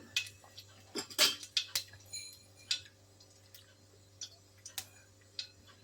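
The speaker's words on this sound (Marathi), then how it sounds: "तेल गरम झालेलं आहे, त्यामध्ये टाकूया मोहरी, टाकूया जिरा" Mustard seeds and cumin crackling in hot oil, a scattered run of small sharp pops and ticks of varying loudness over a low steady hum, quiet and close, with no talking.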